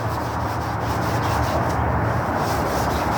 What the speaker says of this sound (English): we're gonna try to get some of this mold off, just Scotch-Brite and a little bit of dish soap.